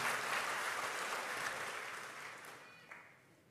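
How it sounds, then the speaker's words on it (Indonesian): A church congregation applauds, the clapping soft and distant, then gradually dying away over a few seconds. "Berikan tepuk tangan yang meriah buat Tuhan"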